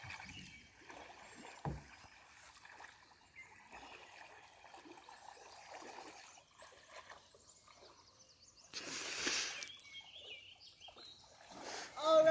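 Kayak paddled on open water: soft, intermittent splashes and dribbles of paddle strokes at a faint, close level, with a louder splash burst near the end and some distant voices.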